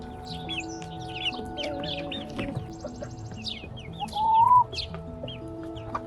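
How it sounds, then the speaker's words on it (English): Backyard chickens, including hens with chicks, clucking outdoors with many overlapping calls near and far, plus wild birds chirping and tweeting in the background; a brief louder rising call stands out near the end, with no talking. "The chickens are all out now."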